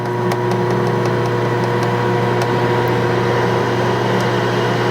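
An air fryer running at 375 degrees while cooking leftover mashed potato cakes gives off a loud, steady mechanical hum with a fixed low drone, continuous and close by, with faint ticks above it.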